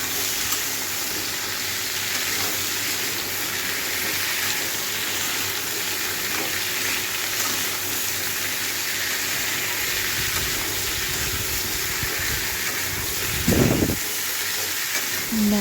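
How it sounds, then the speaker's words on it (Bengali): A steady hiss of vegetables frying in a wok runs throughout at a constant level, with a brief louder clatter near the end. "দেখো সব সবজিগুলো এরপর দিয়ে দিলাম দিয়ে একটু ভাজবে সবজিগুলো"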